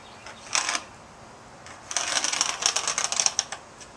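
A blade scores a marked line during a window installation, first a short scratch, then a run of quick rapid scraping strokes, close and fairly quiet.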